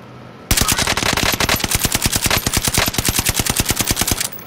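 Rapid automatic gunfire in an online battle royale video game, a loud, close, evenly spaced burst of shots lasting about four seconds before cutting off.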